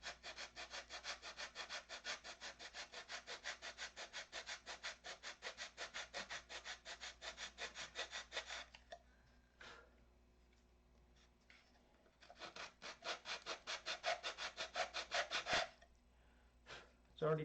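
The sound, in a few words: sanding a control line model part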